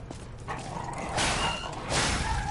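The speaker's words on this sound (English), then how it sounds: "Hi, doggy." A dog in the video game Lies of P gives a few soft barks and yips, fairly close but not loud, with a quiet game background and no talking.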